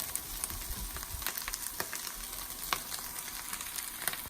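Hot peppers fry in a pan with a soft, steady sizzle and scattered crackling pops, fairly quiet and close, with no talking.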